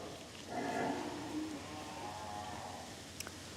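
A cow moos once at a cow shelter, a drawn-out low call that swells and fades over a couple of seconds, heard fairly close against quiet background with no talk.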